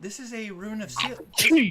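A single sharp sneeze bursts out at close range right after a person speaks, loud and brief.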